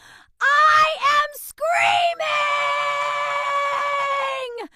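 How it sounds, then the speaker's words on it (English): A person screams loudly at close range: a short shrill cry, a break, then one long, sustained high-pitched scream that ends in a falling tail. "I am screaming."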